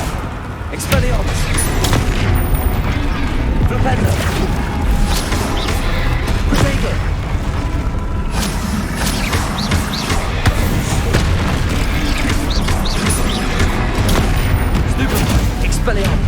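Dense stream of magical spell impacts, bursts and booms from Hogwarts Legacy on PS5, continuous and loud throughout with shouted spell incantations over the top.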